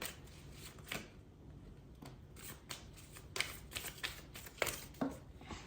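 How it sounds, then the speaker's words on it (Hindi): A deck of playing cards is shuffled close by, with soft repeated riffling and snapping bursts that grow louder toward the end over a quiet room. "I have to shuffle again."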